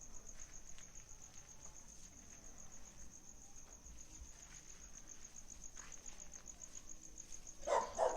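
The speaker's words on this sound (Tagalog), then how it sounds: "Tumahol yung aso," A dog barks in a short burst near the end, outdoors at night by a reportedly haunted house in Oriental, over a steady, shrill chorus of crickets that runs throughout.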